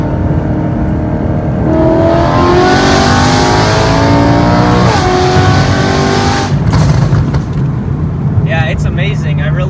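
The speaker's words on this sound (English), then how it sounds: "It sounds better, it sounds cleaner, like a race car, high pitched." A BMW E92 M3 with a titanium double X-pipe exhaust revs loudly up close, pitch climbing in sweeping high-pitched pulls before settling, with a few sharp transient noises near the end.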